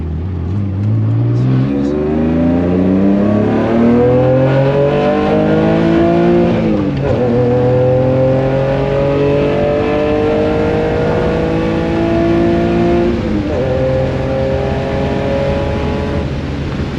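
A $400 drift car with a tuned ECU and M50 manifold revs hard toward a roughly 7,000 rpm redline, loud and close, with repeated rising pulls, brief drops between shifts, and sustained high-revving engine roar.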